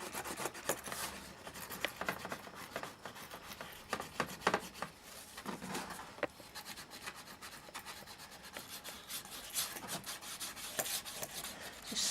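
Hand smoothing of stonework around church windows makes close, quiet rasping and rubbing strokes in an irregular rhythm.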